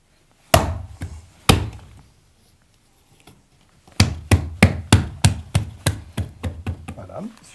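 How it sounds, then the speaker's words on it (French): A ceramic tile set onto combed adhesive beside a corner trim, with sharp close knocks: two spaced taps, a pause, then a quick run of about ten firm taps as it beds in. "Et on pose le carreau."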